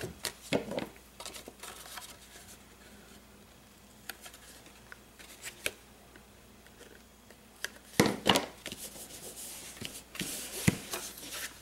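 Card stock is trimmed for a handmade stamped card, with scattered paper rustles, taps and short slicing scrapes coming in irregular bursts at close range.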